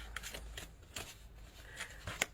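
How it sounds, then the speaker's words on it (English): A deck of tarot cards is cut and handled during a reading, giving a few soft, quiet card slaps and papery rustles spread across a couple of seconds, with one sharper snap near the end. "One more card, and then we will cut the deck."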